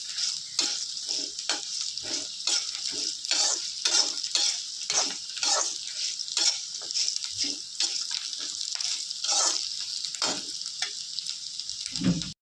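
Ivy gourd and urad dal being sautéed in a pan for a spicy chutney, with a close, steady run of rhythmic scraping stir strokes over a continuous bright frying hiss.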